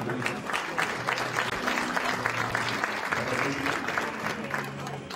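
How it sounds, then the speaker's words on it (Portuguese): A seminar audience applauds steadily and fairly loud, dense clapping lasting throughout, with a faint voice murmuring underneath. "Uma salva de palmas para ela."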